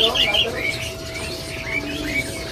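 An orange-headed thrush sits among caged birds at a bird market, giving a few short, thin whistled chirps at a moderate distance while people talk and a steady hum runs underneath.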